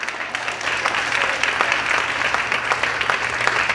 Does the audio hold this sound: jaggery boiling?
no